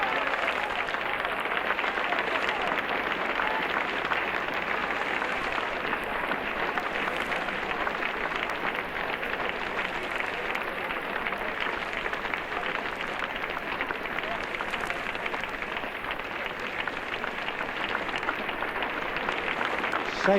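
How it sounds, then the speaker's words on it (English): Cricket crowd in front of the pavilion applauding the dismissal of batsman Graham Pollock, a steady, dense wash of clapping from a large distant crowd that holds evenly throughout. "Savour this applause."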